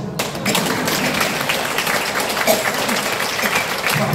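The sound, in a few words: audience applause during a lecture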